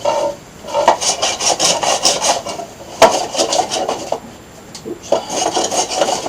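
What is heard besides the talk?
carving a wooden bokken with a blade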